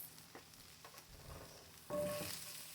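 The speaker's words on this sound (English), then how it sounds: "now we are going to go in with our peppers, red, green" Red and green peppers with onions for pepper steak hitting a hot pan, quiet stirring scrapes followed by a sudden surge of close, steady sizzling near the end, no talk.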